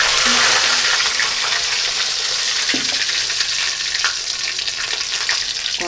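Cut vegetables, including potato, sweet potato, beans, carrot and pumpkin, frying in a wok for Gobindobhog rice khichuri: a loud, continuous close sizzle with occasional stirring scrapes and clinks.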